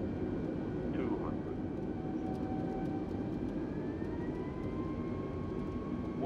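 Airliner landing in stormy weather in Microsoft Flight Simulator 2020, a British Airways flight from Salzburg to London Heathrow: a steady, loud engine and wind roar throughout, with faint tones drifting overhead.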